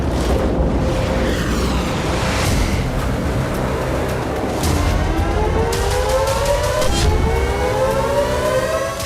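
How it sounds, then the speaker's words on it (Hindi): Air raid sirens wail across Israel during a Houthi attack, their rising and falling tones sweeping steadily over a dense, rumbling background of city and traffic noise that stays loud throughout. "हमले की भनक लगते ही इजराइल के कई इलाकों में सायरन गूंजने लगे।"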